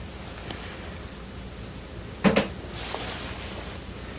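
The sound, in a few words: floor creaking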